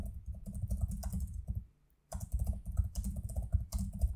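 Rapid typing on a computer keyboard, close and continuous with dense key clicks, while text is entered into a WordPress page editor; a short pause interrupts the burst before it resumes.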